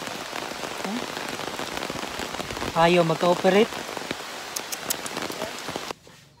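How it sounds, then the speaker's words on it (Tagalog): Heavy rain patters steadily on a surface, with a person speaking briefly partway through before the sound cuts off abruptly. "Medyo malakas pa rin yung ulan."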